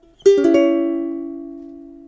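A few quickly fingerpicked ukulele notes ring into a sustained new chord that decays slowly and evenly into quiet.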